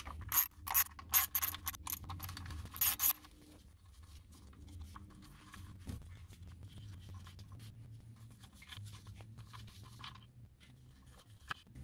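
A 5 mm Allen key works loose the transmission oil plug on a high-mileage Audi A2, with sharp metallic clicks and ratcheting at first, then quieter scraping and faint mechanical fiddling close by.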